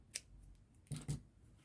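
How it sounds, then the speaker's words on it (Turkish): Scissors snipping yarn after crocheting an amigurumi doll shoe, a few quiet, close metallic snips: one brief click, then two sharper cuts in quick succession. "Bir zincir çekip ipimi kesiyorum burada."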